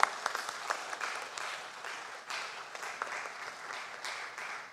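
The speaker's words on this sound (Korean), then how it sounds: "박수하겠습니다." Church congregation at a Wednesday worship service clapping together, a fairly faint, steady patter of many hands in a large room, continuing evenly for several seconds without speech.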